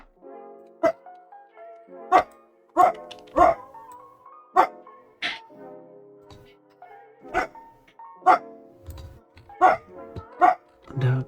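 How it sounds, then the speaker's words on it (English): A dog barks about a dozen times at irregular intervals over roughly eleven seconds, against a quiet tonal background indoors. The barks are sharp but only moderately loud. "Dog is barking."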